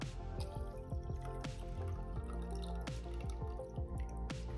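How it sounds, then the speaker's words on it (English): A squirt bottle sprays water down into a gold pan while panning paydirt. It makes a close series of wet drips and splashes with falling, ringing tones, fairly faint, with no speech. "I can squirt it down with my squirt bottle."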